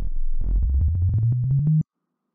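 Low synthesizer sine wave notes in LMMS step gradually upward in pitch, smooth and pure, then cut off abruptly into silence.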